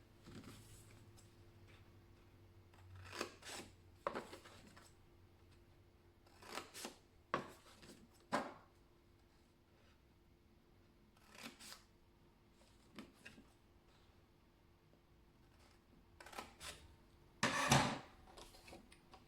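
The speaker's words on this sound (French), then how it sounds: "on va couper tous les côtés gauche de ces petits triangles" Scissors snip along the sides of small paper triangles for a paper explosion box craft, a dozen or so quiet, crisp cuts in irregular clusters over a soft, hushed background.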